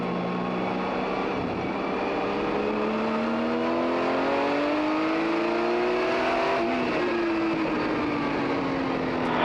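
A 1979 Porsche 935 K3 race car engine howls at a circuit, its pitch climbing steadily through a long pull with a brief shift near the end, loud and sustained with no voices.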